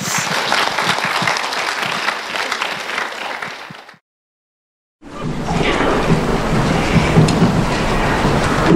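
Applause at a youth award event in Toronto, a broad wash of crowd clapping that cuts to silence for about a second, then resumes with a heavier, rumbling texture.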